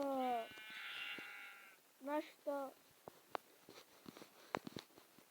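Sheep in the Minecraft video game bleat in a few short, wavering cries, one near the start and a quick pair about two seconds in, followed by scattered clicks and game sounds.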